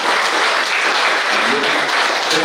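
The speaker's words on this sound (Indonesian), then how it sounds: "Kita beri aplaus untuk Romo." A seminar audience applauds a priest at a Catholic catechesis event, steady dense clapping from a full room that holds at even loudness throughout.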